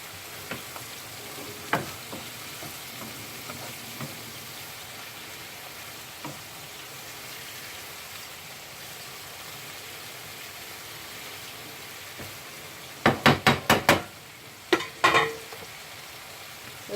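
Onions and mixed vegetables sizzle softly in a pan: a quiet, continuous frying hiss with occasional faint ticks, then a quick burst of spoon-on-pan scraping and clatter as they are stirred near the end.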